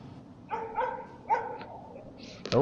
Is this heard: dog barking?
yes